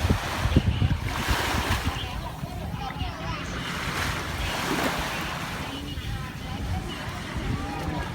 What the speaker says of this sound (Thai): มาเที่ยวน้ำทะเลด้วยกันนะคะ มาเล่นน้ำทะเลด้วยกันนะ